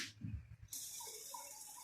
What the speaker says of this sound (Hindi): अब हम पानी उसका निथार लेंगे